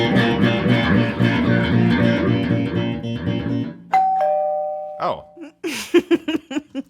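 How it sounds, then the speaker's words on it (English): A two-tone doorbell chime rings out after a stretch of loud, rhythmic music with singing, followed by brief voices talking as the tones fade. "You have a doorbell?"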